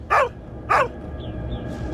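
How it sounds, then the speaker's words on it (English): A dog gives two sharp, close barks about half a second apart, followed by faint background noise. "Shut your dog up before I do."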